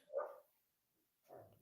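A dog barks twice, a loud single bark followed after about a second of quiet by a second bark, close by in a quiet indoor room.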